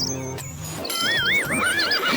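A cartoon horse gives a loud, wavering neigh over background music, with a faint clip-clop of hooves.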